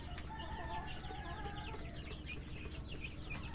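Chickens on a small farm clucking and squawking, several birds calling in short overlapping bursts over a steady low background hum, moderately close and faint.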